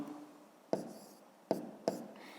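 Pen strokes on paper while writing out a fifth-grade math exercise: three short, distinct scratchy taps spaced about a second apart over a faint, quiet background, with no voice.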